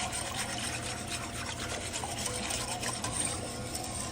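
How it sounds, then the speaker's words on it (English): A roux whisked in a pot for a seafood stew: a steady, dense scraping and rubbing from the whisk, continuous and close, with no talking. "So now I'm gonna whisk and I'm gonna let this cook"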